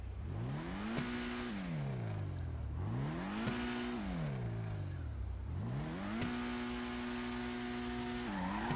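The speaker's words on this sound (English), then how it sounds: "that's not quite as much wheel spin as the last time" A light car of just under 200 horsepower and about 2,000 pounds spins its wheels under hard acceleration, the engine revving and falling in repeated sweeps while tires squeal and skid, loud and close, with no talk.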